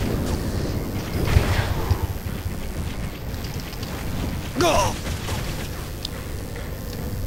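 Frog grenade explosions in the video game Saints Row: Gat Out of Hell during a boss fight make heavy rumbling booms over dense game noise, with someone talking at times.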